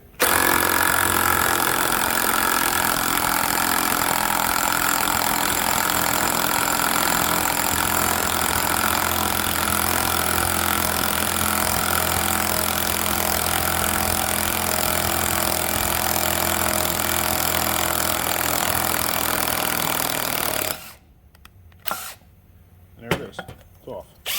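Impact gun on Duramax diesel power steering pump bolts, running as a loud continuous mechanical roar for about twenty seconds before cutting off abruptly into near quiet.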